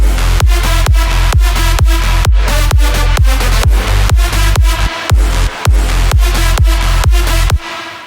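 A loud electronic dance drop with a punchy four-on-the-floor kick, thick bass and bright layered synth or brass stabs, driving steadily.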